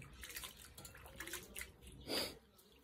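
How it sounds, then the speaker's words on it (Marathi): Elephant foot yam flowers being rinsed in water, with faint splashing and sloshing that rises to one louder burst of washing noise toward the end. "आता परत तिसरा पाणी टाकला. आता परत एकदा धुवून काढायला लावला."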